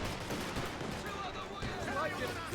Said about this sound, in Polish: Granaty latają w tej i we w te.